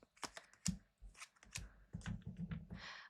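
A deck of tarot cards shuffled by hand up close, with quick crisp riffles and slaps in uneven bursts and no talking.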